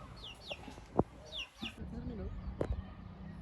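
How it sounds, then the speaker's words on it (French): Chicken at a rural spot in Chachapoyas, Peru, giving several short clucks and squawky calls amid outdoor background noise, with thumps and people talking nearby. "Un poulet tout nu."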